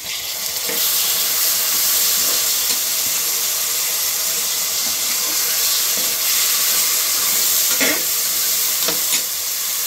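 Onions, tomatoes and curry leaves sizzle and fry in a pan for a chicken gravy, a continuous loud hiss with occasional stirring scrapes and crackles running throughout, no voices present.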